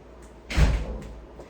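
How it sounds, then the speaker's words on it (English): A house door swung shut with a single solid thud in a quiet room, followed by faint rattles as it settles. "I gotta shut the door, flies are coming in."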